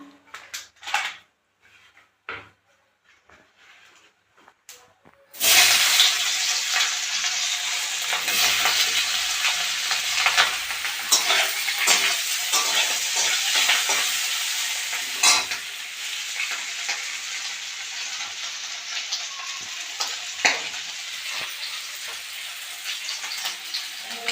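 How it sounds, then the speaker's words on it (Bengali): After a few quiet seconds of small clicks, boiled, cut potatoes hit hot oil and sizzle loudly and continuously, with occasional stirring scrapes. "আমি আগের থেকে আলু সিদ্ধ করে কেটে রেখেছিলাম, সেটাকে আমি এখন ভেজে নেব"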